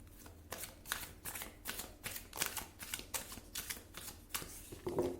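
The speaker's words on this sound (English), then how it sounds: "Let's get more cards from the Angel Answer deck," Tarot cards from the Angel Answer deck being shuffled in a steady run of about ten quick riffling bursts, close and crisp, with no talking.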